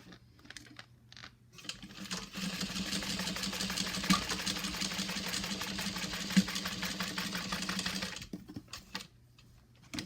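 A sewing machine stitches a bag seam in one steady run of about six seconds, its rapid needle chatter close and even, with a faint hum before and after.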